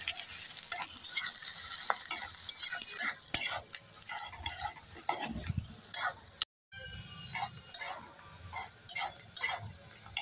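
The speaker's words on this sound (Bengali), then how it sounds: "এবার পেঁয়াজগুলোকে একটু নেড়ে চেড়ে লাল লাল করে ভেজে নেব।" Sliced onions with cardamom, cloves and cinnamon fry in a pan under a soft sizzle while a spatula scrapes and stirs in irregular bursts, close up, with one brief silent gap midway.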